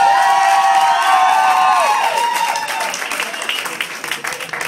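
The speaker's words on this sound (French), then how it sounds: "Maintenant, c'est vos applaudissements, Fabrizio!" A comedy contest crowd roars with loud applause, whoops and cheering, a dense sustained wall of noise with shouted voices that eases slightly toward the end.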